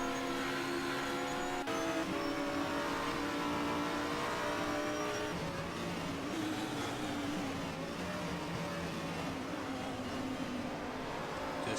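Racing-game prototype race car at Sebring engine whirring steadily at high revs, a continuous loud drone with shifting pitch as it speeds past a slower Audi R8.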